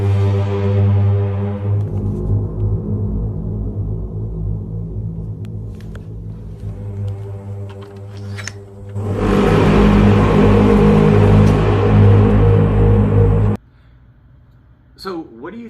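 An eerie sky trumpet sound: a long, low, droning blare with harmonic overtones, like a squealing, groaning horn, swelling louder partway through before cutting off abruptly, followed by a brief fainter sound.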